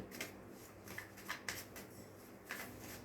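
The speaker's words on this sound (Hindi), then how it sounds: "शफल कर लेते हैं अच्छे से कार्ड्स को।" A deck of cards is shuffled close up, quiet riffling and soft slaps recurring in a loose rhythm against faint background hum, with no talking.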